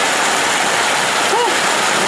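Loud, rushing floodwater roars continuously close by after sudden heavy rain, a strong churning current with a brief faint voice-like tone partway through.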